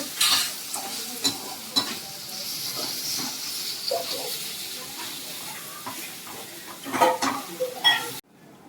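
Chillies fry in a pan while being stirred, with a steady hiss of sizzling oil broken by scraping and clattering strokes of the spoon, heard close and at moderate volume.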